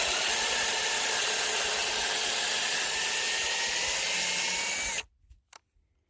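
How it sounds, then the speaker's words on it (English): A power drill bores a screw pilot hole into a walnut log set up for chainsaw milling, a steady high-pitched whine running for about five seconds before stopping abruptly, followed by a couple of brief knocks. "Next thing we'll do is we'll pre-drill a hole here for our screw to go in and hold this"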